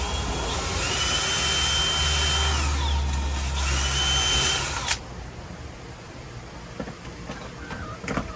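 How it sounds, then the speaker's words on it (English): A loud, steady whine of a power drill running continuously for several seconds drilling pilot holes for a chicken coop perch, then stopping, followed by quieter workshop clatter. "we'll go ahead and run some pilot holes"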